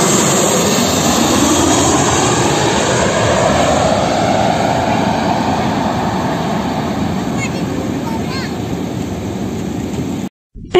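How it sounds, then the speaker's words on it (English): An aeroplane passes with a loud, continuous engine roar and a sweeping whine that shifts in pitch as it moves by, holding strong throughout before cutting off abruptly near the end. "Aeroplane."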